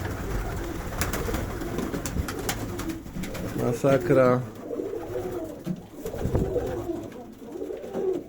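Pigeons in an aviary coo in soft, throaty bursts amid rustling and flapping, while a person speaks briefly nearby.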